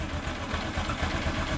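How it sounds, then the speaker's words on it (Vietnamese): Motorcycle with a weak battery idling steadily at close range, a continuous low engine rumble with no talk. "Thì bây giờ mình sẽ nổ máy."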